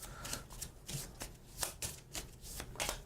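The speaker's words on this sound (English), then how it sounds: "I'll shuffle all this back up" Playing cards being shuffled at a tabletop miniatures game, a quiet run of repeated riffling bursts at a steady rhythm, close by with no talk.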